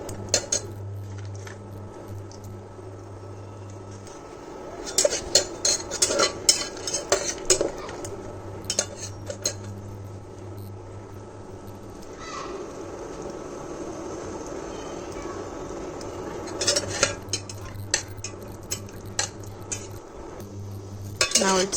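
Cashew nuts are fried in a pan with dried fruit, with a spoon scraping and clinking against the metal in irregular bursts over a steady low hum.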